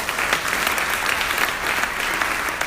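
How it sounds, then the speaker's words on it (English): An audience at a national Venturing reception applauds in a loud, sustained, even round of clapping from many hands that continues throughout without any talk. "Let's give that a big round of applause."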